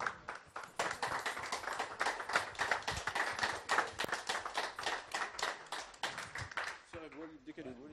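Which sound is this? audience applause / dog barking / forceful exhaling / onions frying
audience applause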